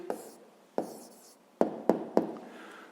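A pen writes a math answer by hand on paper, producing several short distinct scratchy strokes with brief pauses between them, close and fairly quiet.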